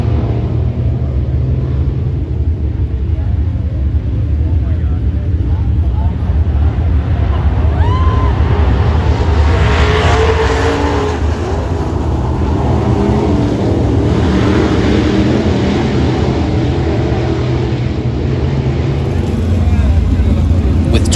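IMCA 305 Race Saver sprint cars, a field of 22, take the green flag down the front stretch at Arlington Raceway, their engines making a loud, continuous roar with wind buffeting the microphone and a voice talking over it.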